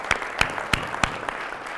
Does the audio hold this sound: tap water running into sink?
no